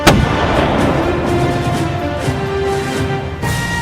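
Ship cannons in a pirate-style naval battle firing with a heavy opening boom, followed by rumbling blasts, debris clatter and a final thud, loud and close.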